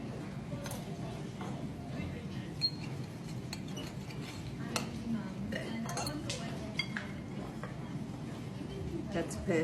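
Cabbage rolls being served onto plates, with repeated light clinks and taps of dishes and cutlery scattered across a low background of kitchen noise and handling sounds.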